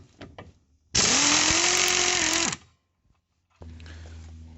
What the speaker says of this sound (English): And we're going to take our air gun.